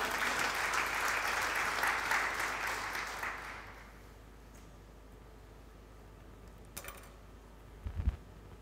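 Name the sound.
church congregation applauding and acclaiming the Lord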